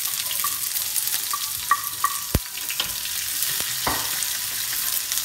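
Onion goes into hot oil with mustard seeds in a pan for pumpkin leaf poriyal, giving a steady close sizzle broken by a few sharp stirring clicks and spatula taps, with no talking.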